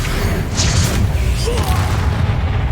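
A Confringo blasting spell goes off as a deep, booming burst in Hogwarts Legacy combat, swelling briefly and then fading into low rumbling noise.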